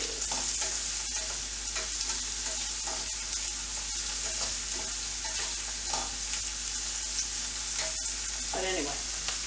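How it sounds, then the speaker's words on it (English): Food sizzles lightly in coconut oil with a constant crackling hiss, broken now and then by soft stirring scrapes and small pops. Heard close and alone. "But anyway, lightly fry."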